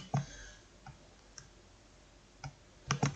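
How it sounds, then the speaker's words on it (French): Computer mouse clicks on a Finish button while setting up a Java development project, sharp, close and distinct, a few single clicks followed by a quick cluster near the end over quiet background. "je clique sur Finish"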